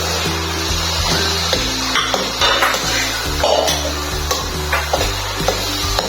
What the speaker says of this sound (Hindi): अब हम इसमें मटर डालेंगे।